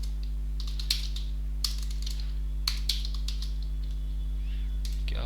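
A computer keyboard is typed on in short, scattered bursts of crisp clicks, with loose pauses between them, over a steady low electrical hum in a quiet room.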